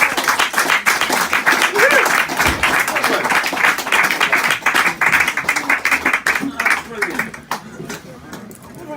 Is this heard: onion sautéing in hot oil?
no